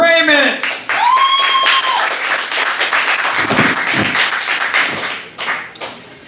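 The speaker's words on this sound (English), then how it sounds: "I want to hear a big, big round of applause" A comedy club audience bursts into loud, dense applause with scattered cheers, sustained for several seconds close to the listener before tapering off at the end.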